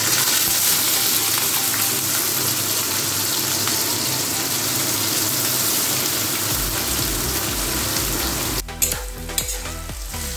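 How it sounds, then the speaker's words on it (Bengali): Chopped onions fry in white oil in a wok for crispy birista, giving a loud, steady, close sizzle throughout, with clattering stirring sounds breaking in near the end. "কড়াইতে এখন সাদা তেল দিয়ে দিয়েছি, এর মধ্যে দিয়ে দেবো এই পেঁয়াজ কুচিগুলো, দিয়ে বেরেস্তা ভেজে নেব।"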